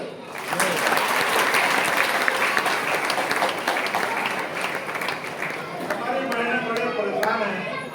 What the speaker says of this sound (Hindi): यदि कर सकते हैं तो एक बार ताली हो।